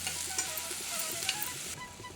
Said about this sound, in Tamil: ஒரு கடாய் ஒன்று வச்சு எண்ணெய் கடுகு வெங்காயம் வதங்கட்டும்